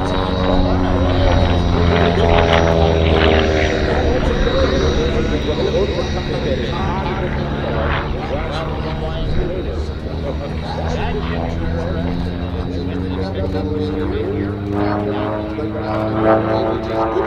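A Long-EZ propeller airplane flies a roll during an airshow display at Aero Gatineau, its steady engine drone loud and continuous throughout, with a commentator talking over it.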